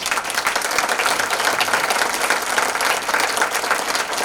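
An audience claps warmly and continuously for two Hibakusha atomic-bomb survivors at a Peace Boat welcome event in Zeebrugge. The crowd applause is dense and sustained, with no voices rising above it.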